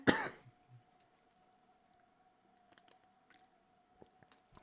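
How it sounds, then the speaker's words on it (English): A man clears his throat and coughs once, loud and close, during a live fantasy football draft, followed by a faint steady hum and a few small clicks. "And I'm just coughing all over the place."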